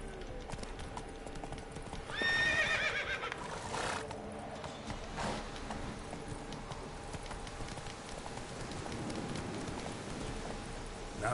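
Hoofbeats of a horse in The Witcher 3, steady clip-clop with a short whinny early on, moderately loud over a soft outdoor game ambience.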